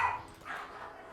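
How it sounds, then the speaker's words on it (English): A pet dog barking and whining at home, a short excited yelp heard alone at moderate volume with no talk over it. "Oh, my dog's going crazy."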